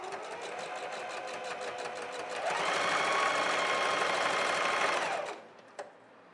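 A sewing machine runs a vertical seam on a small child's garment, a steady mechanical whir that picks up speed midway, holds a fast even stitching rhythm, then stops abruptly, followed by a faint click.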